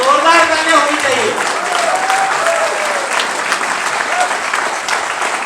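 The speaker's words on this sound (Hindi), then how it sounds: "सर के लिए जोरदार, इतने तालियों में काम नहीं चलेगा, जोरदार तालियां होनी चाहिए।" At an award ceremony honouring entrepreneurs, a large audience breaks into loud, sustained applause that carries on for the whole stretch. A voice speaks briefly near the start.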